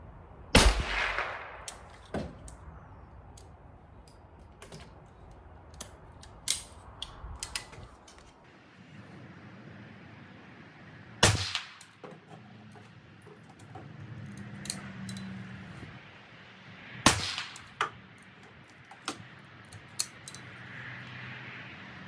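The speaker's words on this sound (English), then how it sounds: "I'll do 5 rounds with this guy, and then I'll switch off to another rifle." A .22LR rifle with a crisp trigger fires at a range, aiming at 25 yards. A few sharp, well-spaced reports stand out, with quieter mechanical clicks and handling noises in between and no voices.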